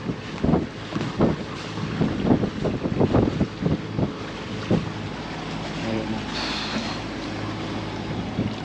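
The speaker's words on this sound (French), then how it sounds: "maintenant le vent vient d'ici" Wind gusts across a boat at anchor in the Aeolian Islands, buffeting the microphone in irregular thumps with rushing air and faint water beneath, loud bursts early that ease into a steadier blow.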